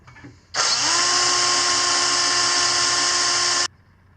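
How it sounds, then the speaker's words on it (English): A power tool shortens the threads on a bolt, running at a steady high-pitched whine for about three seconds before cutting off abruptly, close and loud. "That's a tool to have for shortening threads."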